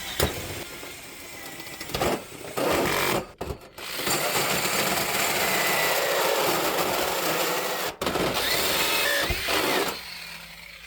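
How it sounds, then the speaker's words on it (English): A power drill bores a hole through a wall for a 12,000 BTU ductless mini split install, grinding loudly and continuously for several seconds, with a couple of brief pauses. "So the next step, we'll be drilling a hole in that area."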